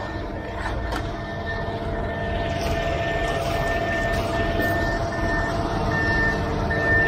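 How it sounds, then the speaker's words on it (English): A truck reversing at a tight construction site emits evenly spaced high electronic beeps over a steady rumbling diesel engine, close and continuous. "second truck backing in"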